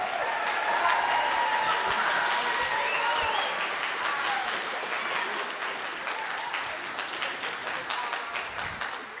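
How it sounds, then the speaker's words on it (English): A school band concert audience gives the seniors a steady round of applause, dense clapping filling the hall for about nine seconds and slowly thinning toward the end, with a few faint voices mixed in. "Let's give our seniors one more round of applause."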